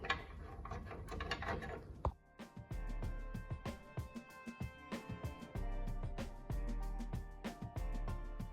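A wrench turns a bolt on a rusty Chevy truck crossmember, with rapid ratcheting clicks and metallic knocks in irregular bursts close to the microphone, preceded by a brief busier scrape of metal tools.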